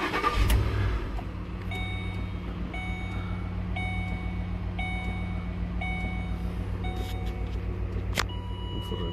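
A Ford Explorer with the 4.6L V8, tuned for timing chain faults, cranks and starts up close by, then settles into a steady low idle rumble with faint tonal whines from a scan tool or dash beeps.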